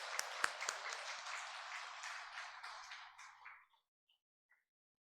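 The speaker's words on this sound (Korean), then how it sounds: "우리 다시 한번 하나님께 영광의 박수 올려드리겠습니다" A church congregation applauds during a Sunday worship service with dense, steady clapping that tapers off and fades to silence after a few seconds, heard from a distance.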